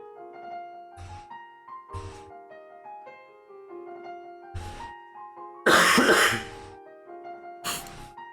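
Several sharp, close coughs and one longer harsh cough burst over soft background music, spaced irregularly about a second apart.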